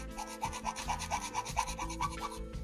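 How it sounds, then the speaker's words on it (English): Rapid back-and-forth rasping of sandpaper on a small plastic gear stick housing from a 1/48 scale model kit, close and rhythmic, about ten quick strokes with no talking. "after sanding down the gear stick housing"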